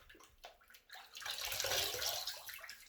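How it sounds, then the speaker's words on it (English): Tap water runs onto a washcloth as it is wetted before a face wash for shaving, a light splashing that swells into a steady close rush. "let me get my cloth here wet"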